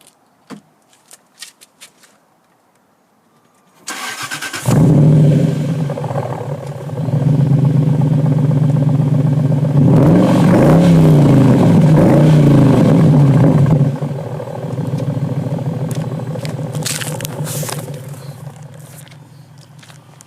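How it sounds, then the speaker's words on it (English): A modified, custom-lowered Jaguar S-Type with 20-inch rims is started after a few faint clicks. It cranks, catches with a loud exhaust burst, revs hard for several seconds, then drops back to a deep, steady idle. "you'll be able to hear the exhaust"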